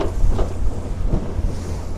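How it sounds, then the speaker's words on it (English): Steady wind buffeting a microphone aboard an 18ft Alumaweld Super Vee boat with a Yamaha 115HP outboard, a constant low rumble with gusty swells throughout, no voices. "It's pretty windy out here."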